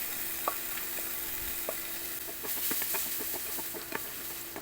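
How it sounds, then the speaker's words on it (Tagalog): Garlic sautéing in heated dairy cream in a pan for ground pork giniling, a steady soft sizzle with scattered clicks of a spoon stirring against the pan, nearer and busier toward the end. "Ginisa ko yung bawang."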